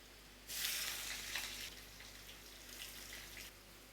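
Garlic and an onion frying in a pan, a steady broadband sizzle that starts abruptly and holds evenly at moderate level before easing off, with no talk over it.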